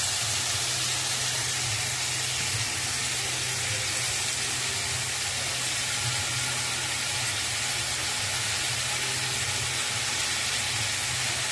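Bottle gourd peel fries with onion in a pan, giving a dense, continuous sizzle and hiss with a low steady hum underneath, close and uniform from start to finish, no voices.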